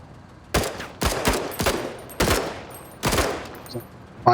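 Gunfire in the video game MENACE: five sharp, loud bursts of shots spaced about half a second apart, each cracking and then decaying quickly, with quiet gaps between them.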